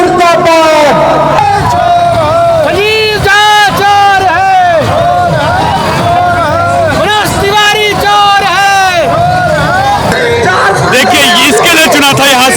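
A large protest crowd in the streets of Burari, Delhi, chants and shouts slogans loudly and continuously, with voices rising and falling in rhythmic waves close by.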